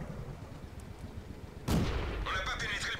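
A tank gun firing in an armored-vehicle video game, the shell bouncing off enemy armor: one sudden loud boom partway through, then a ringing metallic rattle over background engine rumble.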